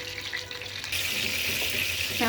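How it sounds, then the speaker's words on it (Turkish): Eggplants fry in a pan with a steady, bright sizzle that grows fuller partway through, close and continuous, with a faint voice underneath. "patlıcanlarımızı gördüğünüz gibi çevire çevire kızartıyorum"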